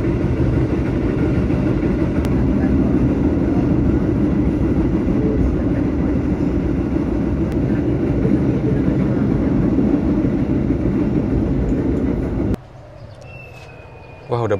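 Minangkabau Ekspres train in Padang, starting to depart, with a loud steady engine and rail rumble that holds for most of the clip, then drops away abruptly near the end.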